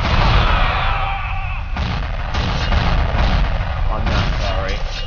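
Booming explosions from a bomb in the video game Warlords arrive as heavy, rumbling blasts in rapid succession, loud and dense, with a voice talking faintly underneath.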